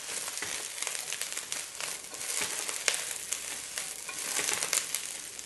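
Cabbage being stir-fried for chicken chow mein, giving a steady, bright crackling sizzle with rustling, crinkly bursts as the vegetables are tossed, close and continuous throughout, with no talking.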